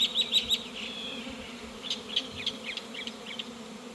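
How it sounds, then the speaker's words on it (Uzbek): Honeybees buzz around hive frames at close range, a steady hum broken by a few sharper flyby buzzes, fairly faint and with no talking. "Arilar juda yaxshi ishlayapti."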